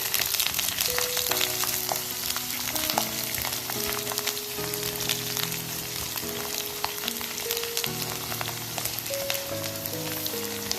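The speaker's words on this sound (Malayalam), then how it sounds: "ഇനി നമുക്ക് ഇതിലോട്ട് വേപ്പില ചേർത്ത് കൊടുക്കാം. നന്നായി ഇളക്കി കൊടുക്കണം." Curry leaves sizzling and crackling in hot oil in a pan while being stirred for a homemade lime pickle, a dense continuous frying hiss with sharp pops throughout.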